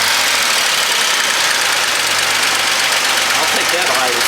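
A vintage Jaguar car engine idles with a dense, steady mechanical rumble and hiss heard close up, continuous and fairly loud throughout.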